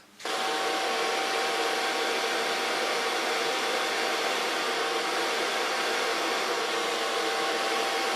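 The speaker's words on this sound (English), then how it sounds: "now I'm going to start with a large brush, blow drying her hair" A hair dryer starts and runs at a steady, loud, close whoosh while hair is blow-dried with a large brush, continuing unbroken for about eight seconds with no talking.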